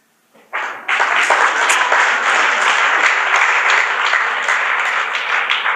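An audience at a motivational talk bursts into steady, loud applause after a short recited poem, starting abruptly from silence and continuing as dense clapping throughout.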